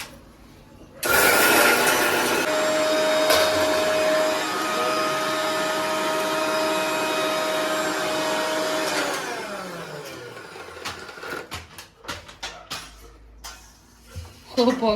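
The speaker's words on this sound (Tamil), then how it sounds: "அந்த மசாலா எடுத்து மிக்ஸில போட்டு அரைக்க போறாங்க" A kitchen mixer grinder whirs loudly at a steady pitch as it grinds masala with coconut and dried chillies, then runs down and stops, leaving clatter and faint background voices.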